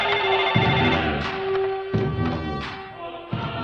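A telephone rings in repeated bursts, about three rings with short gaps between them, clear and close, with no voices.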